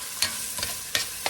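A spoon scrapes and stirs garlic, onion and ginger sautéing in a pot for chicken ginger soup, with about four soft, evenly spaced strokes over a faint, quiet sizzle.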